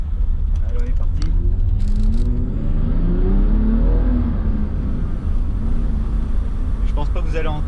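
Car engine pulling hard in second gear, a loud steady rumble with rising revs that sweep upward then level off, heard close through a GoPro mount with constant road and wind roar, and no talking.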